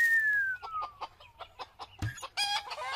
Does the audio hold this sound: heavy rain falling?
no